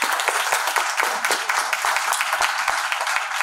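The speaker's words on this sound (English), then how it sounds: "So again, if we can give him a round of applause." Audience applause at a symposium welcome session, a thinner crowd of clappers where individual sharp hand claps stand out in an uneven, rapid patter that continues without talk.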